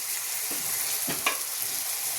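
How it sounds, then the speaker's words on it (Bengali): Boiled potatoes frying in a wok, a steady close sizzle with a few brief stirring scrapes and sputters over constant crackle. "কড়াইতে আমি আলুটা ভাজতে বসিয়ে দিয়েছি।"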